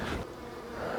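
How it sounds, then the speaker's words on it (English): Honey bees buzz close by during a hive inspection, a steady, fairly loud insect drone with a brief louder pass, no voices. "Out of my face, bee."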